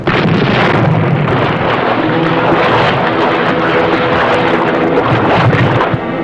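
Wartime naval action at sea, with enemy guns firing on a small boat: a loud, continuous roar of gunfire and explosions fills the whole stretch, dense and unbroken beneath rushing wind and engine noise.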